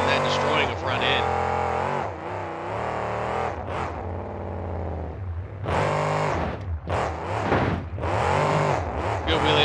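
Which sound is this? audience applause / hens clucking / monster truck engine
monster truck engine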